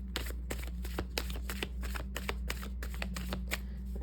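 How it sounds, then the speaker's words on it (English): Tarot cards being shuffled by hand in a steady run of quick riffling snaps, about a dozen crisp bursts over a low constant hum, close and fairly quiet with no talking. "Shuffle this one twice."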